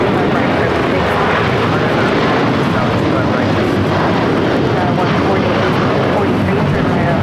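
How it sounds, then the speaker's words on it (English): A United Airlines Boeing 757-300 bound for Honolulu takes off from LAX, a loud, continuous jet-engine roar filling the whole stretch while a voice talks over it. "This is United Airlines 1431 taking off to Honolulu on the 757-300."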